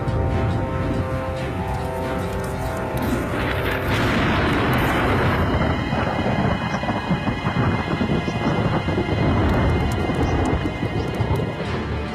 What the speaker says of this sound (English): A dry electric storm above the timberline is deadly.